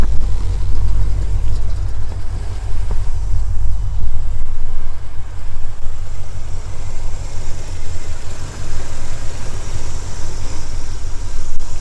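A 1981 Chevrolet Corvette engine idles steadily and loudly nearby, a constant low rumble with no talking over it.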